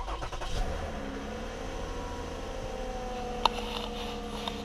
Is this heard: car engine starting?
yes